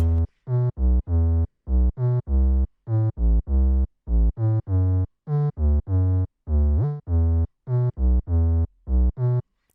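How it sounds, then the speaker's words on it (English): A deep, booming 808 bass in a moombahton track plays short punchy notes in a syncopated pattern, with an occasional pitch glide, loud and alone. "The 808 is a little bit different than before and sounds like this."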